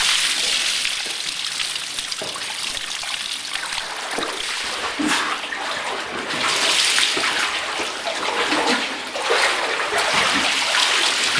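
Cold water splashes and rushes steadily and close by, with a continuous broadband wash and occasional louder surges.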